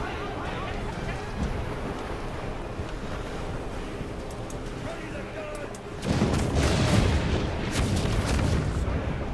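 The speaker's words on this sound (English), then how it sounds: "Hey, I'm firing cannons." Ship cannons in the pirate game Vendetta - Curse of Raven's Cry fire a loud broadside partway through, a sudden heavy rumbling blast over steady surf and wind that stays louder afterward.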